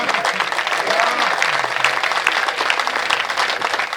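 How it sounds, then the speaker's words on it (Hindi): A seated crowd at a comedy show claps in a dense, steady burst of applause lasting several seconds, with some voices mixed in under the clapping. "हर व्यक्ति मेरी दुआ पर ताली ज्यादा उठाना"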